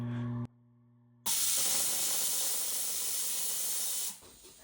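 A jeweler's steam cleaner fires at a letter necklace chain: after a short low hum and a pause, a loud, sustained hissing blast runs for about three seconds before cutting off abruptly.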